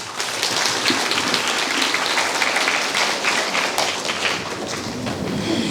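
An audience of parents and prospective students applauds at a high school admissions information session, a steady, dense wash of clapping that holds for several seconds without a break.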